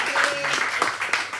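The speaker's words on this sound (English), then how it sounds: "This is where you clap, yeah." Scattered audience clapping at a stand-up comedy night in a café, a short burst of hand claps rising and fading over about a second with some crowd murmur mixed in.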